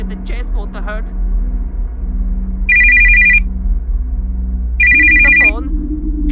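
A telephone rings twice in the Mario in Animatronic Horror video game, each trill loud and electronic over a low droning game ambience.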